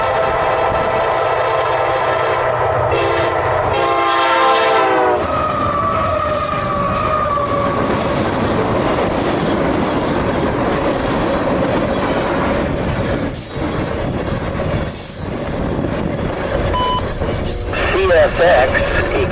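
CSX flared SD70 freight locomotives pass close by near Patterson, Georgia, loud and steady, with a long horn blast at the start, a rolling rumble and wheel squeal as the cars go by, and voices heard over it.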